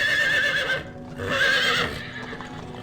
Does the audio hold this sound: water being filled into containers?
no